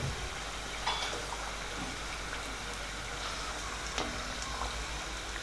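Onion samosas frying in oil over a medium flame, a steady soft sizzle and bubbling that stays even throughout, with occasional faint clinks, fairly quiet and close.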